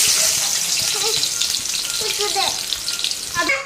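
Fish paste mixture fried in hot oil in a pan, a steady dense sizzle and crackle filling the whole stretch with a few brief spatters near the end, close and fairly loud, no voices.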